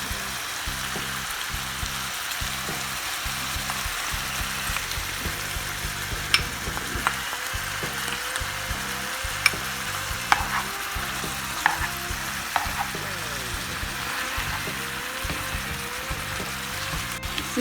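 Rice sautés in olive oil with zucchini, making a steady, even sizzle broken by occasional sharp clicks from stirring, close up with no talk.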